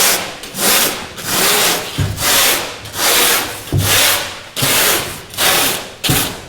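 Sandpaper scuffing the fiberglass of a Whitehall Wherry rowing boat, loud and close, in about seven steady back-and-forth strokes with brief pauses between them.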